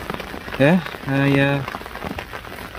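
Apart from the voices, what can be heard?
rain falling at a fishing lake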